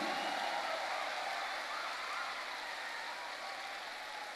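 An audience at a business event applauds with both hands raised, a dense, steady wash of many clapping hands from start to finish, fading slightly toward the end.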